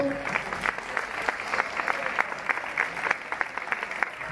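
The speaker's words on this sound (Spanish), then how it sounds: "Un aplauso," Audience applause from a crowd gathered for a Star Wars-themed event in Maceda, steady dense clapping sustained throughout with no talking over it.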